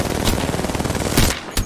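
Sustained rapid automatic gunfire in Apex Legends during a Crypto match, loud and continuous bursts close up with a few sharper shots near the end, no talking.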